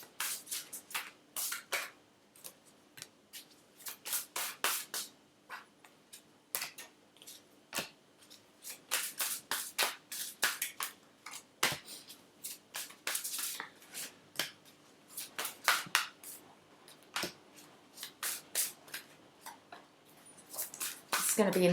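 Tarot cards are handled and shuffled up close, giving quiet crisp riffles and flicks in irregular bursts with short pauses, faint and mostly alone.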